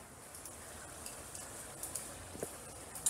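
Ground taco meat frying in a pan, giving a low, steady sizzle with a few soft stirring clicks and scrapes near the end, and no voices.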